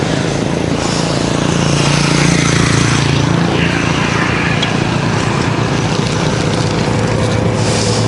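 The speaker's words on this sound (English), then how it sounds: "A little motorbike here on my right." A small motorbike passes close on a road in Danang, Vietnam, its engine a loud, steady buzz that swells and then fades, with no one speaking.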